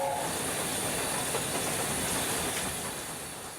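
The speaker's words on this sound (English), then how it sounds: "In a tunnel, in a steam locomotive, on the footway." Steam locomotive running through a tunnel, a dense continuous roar with hissing and rail rumble, fairly loud and easing slightly toward the end, no voices.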